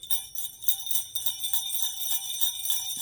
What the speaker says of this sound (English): Now we have the bells.